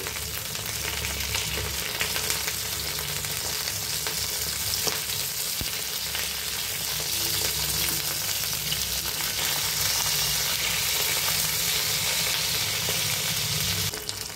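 Hilsa fish pieces, freshly flipped, sizzle steadily and loudly in hot oil in a pan, a dense continuous crackle with scattered pops, and no one speaking.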